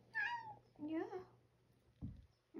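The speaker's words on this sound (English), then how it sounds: "What are you meowing about?" A cat meows twice in quick succession, close and clear, followed by a couple of soft low thumps.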